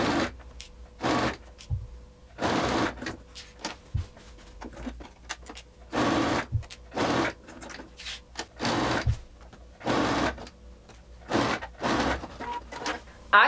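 A sewing machine stitches around a handmade lab coat in bursts, each run a steady mechanical whir, separated by short pauses and small handling clicks.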